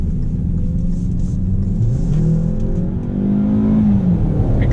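A 2019 Hyundai Tucson Night Edition SUV accelerates, heard from inside: a moderate engine hum rising in pitch through gear changes, with a steady rumble underneath.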